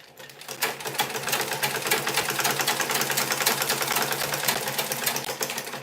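A sewing machine stitches the base of a turban cap in a steady, fast, continuous mechanical whir with a rapid needle clatter. It runs close and loud for several seconds, with no talking.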